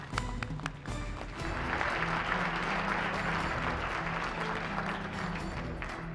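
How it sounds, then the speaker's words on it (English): A crowd at a police awards ceremony applauds in a steady, even wash of clapping that holds at a moderate level throughout, with faint voices briefly underneath at the start. "please a round of applause for all those people that are working"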